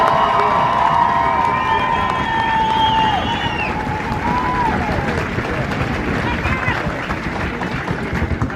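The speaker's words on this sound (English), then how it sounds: "let's give them a big round of applause" A large outdoor crowd at a U.S. Army basic combat training graduation cheers, whistles and applauds steadily, dense and loud throughout, with high shouts and whistles standing out early.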